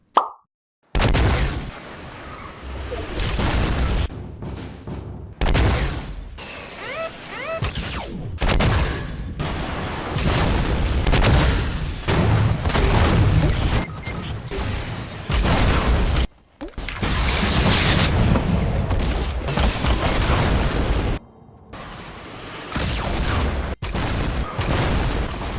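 Guided missiles in the Fortnite video game are fired and explode repeatedly, sounding as dense, loud bursts of booms and blasts separated by brief gaps, with no talk.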